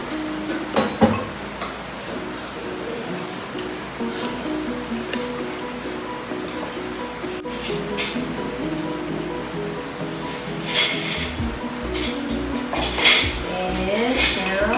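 Atsuete and water are stirred in a pot for beef kare-kare: scraping and clinking of a utensil against metal in irregular bursts, close by, with kitchen clatter and sloshing and no talking.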